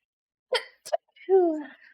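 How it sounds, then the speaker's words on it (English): A single sharp sneeze burst, close and fairly loud, followed by a brief voiced sound afterward. "Oh wait, I gotta sneeze."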